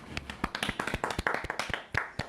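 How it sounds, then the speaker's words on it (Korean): Sparse hand claps from a small studio group for two guests' fathers during an arts talk show, each clap distinct and irregular, fairly close and soft. "우리 그 각각의 아버님 박수 한번 치겠습니다"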